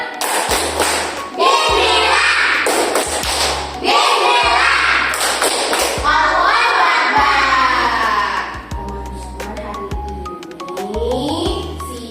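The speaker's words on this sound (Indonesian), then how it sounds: "Tepuk semangat." A group of young children in an early-childhood classroom performs a rhythmic 'tepuk semangat' clapping chant, with loud, patterned claps and thumps and shouted voices repeating in bursts throughout.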